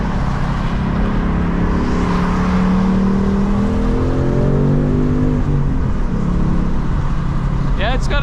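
A Ford Mustang engine accelerates while driving, a loud, close low growl whose pitch climbs steadily through the gears and then drops back, with a brief voice near the end.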